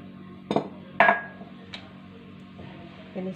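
A spoon mixes sugar in a glass of milk for dalgona-style cold coffee, making a few separate bright clinks against the glass with quiet pauses between them.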